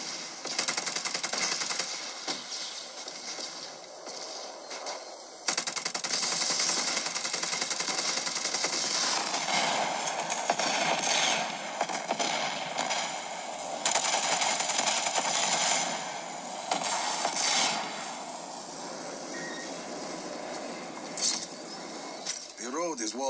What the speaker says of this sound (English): An underbarrel grenade launcher.